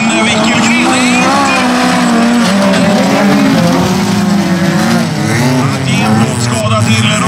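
Folkrace cars leaving the start line on a Swedish track, a loud roar of several engines revving and rising in pitch as they accelerate together, with a commentator talking over it.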